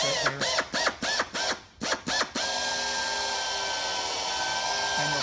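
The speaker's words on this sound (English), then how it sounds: "I'll be moving the drill quite a bit to get that drill to stay centered" Power drill drilling out soft aluminum rivets, with several short stop-start bursts of whining drill at first, then a long steady continuous drilling run, close and loud; a brief spoken word is heard.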